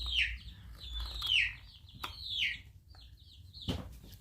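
Chickens cluck and squawk in short repeated calls at close range, with occasional sharper bird chirps and a low background rumble.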